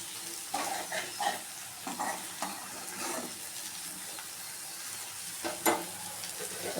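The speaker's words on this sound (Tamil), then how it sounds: "இது நல்லா ஒரு நிமிஷம் அப்படி கிளறி விட்டு சிம்மிலே தான் வேகுது" Bitter gourd slices frying on a low flame in a pan, a soft steady sizzle with scattered scraping and stirring clicks, fairly quiet and close, no voices.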